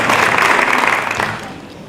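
A school end-of-year celebration audience claps for a teacher retiring after 39 years, a dense burst of applause that starts full and gradually fades.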